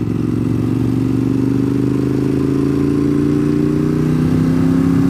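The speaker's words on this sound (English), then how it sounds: "there is a red motorcycle headed his way" Close, continuous engine drone of a motorcycle riding along Wolf Pen Gap Road, the pitch rising gradually as it accelerates, loud and steady throughout with no talking.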